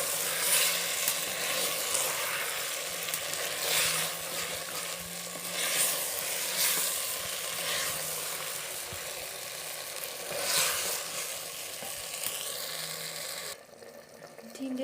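Pieces of tinda (apple gourd) sizzle softly in a pan as they are stirred, a quiet continuous frying hiss that swells with each stir.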